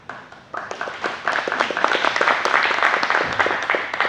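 An audience at an FAA Safety Center talk claps, starting softly then swelling into steady applause of many hands for a few seconds.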